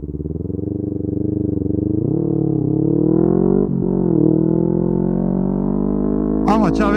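A 2018 Kawasaki Ninja 400 motorcycle runs loud and close, its engine drone climbing steadily in pitch as it accelerates through the gears, with a brief dip at each shift.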